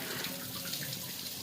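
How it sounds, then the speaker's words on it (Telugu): Water pouring steadily from a tap or vessel over cut potatoes, a continuous close splashing and gurgling with no voices. "కొన్ని వాటర్ తీసుకొని వాటర్ పోసుకోవాలి"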